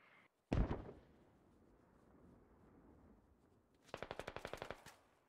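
Rapid automatic gunfire in the military shooter game Squad, a loud close burst early on, then a distant rumble, then a sharp rhythmic string of about a dozen shots near the end.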